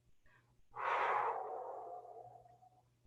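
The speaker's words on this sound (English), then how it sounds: "Continue to breathe." Slow, deep breath during a low-back circling stretch in a fitness class, one long airy exhale that swells and fades gradually, close and soft, with no voices.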